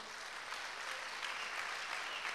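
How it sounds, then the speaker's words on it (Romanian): Audience clapping at an entrepreneurs' event, a steady dense patter of many hands, fairly faint and even, continuing without pause. "toți ceilalți vă rog să-i aplaudați pe acești oameni"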